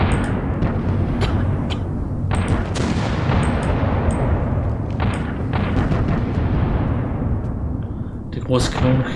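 Rapid, overlapping cannon shots and booms in the video game Apocalypsis form a relentless barrage of heavy rumbling, with sharp cracks cutting through; loud throughout, a voice faintly beneath.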